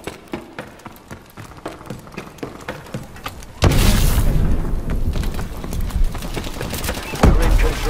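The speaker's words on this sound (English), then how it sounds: "Turret has been destroyed." In Call of Duty Advanced Warfare multiplayer, a turret is blown up: rapid gunfire crackles first, then a loud, close explosion booms and rumbles on, with a second heavy blast near the end.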